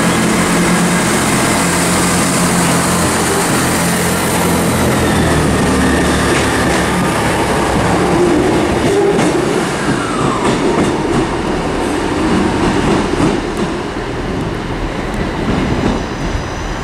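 A Northern diesel train departing Carlisle station on the West Coast Main Line, a loud continuous engine and rail rumble close by with wheel noise and clatter, slowly easing as it pulls away.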